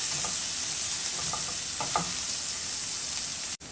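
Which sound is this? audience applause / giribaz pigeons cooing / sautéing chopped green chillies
sautéing chopped green chillies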